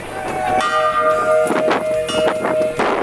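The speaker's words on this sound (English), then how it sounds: "And everyone bangs a gong when they arrive." A gong struck by arriving festival-goers at a large desert gathering rings out loudly with a sustained shimmering metallic tone, layered with crowd noise and further clanging strikes.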